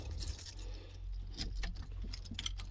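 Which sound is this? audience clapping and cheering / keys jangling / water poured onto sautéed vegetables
keys jangling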